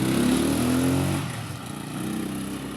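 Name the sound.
motorcycle with sidecar being test driven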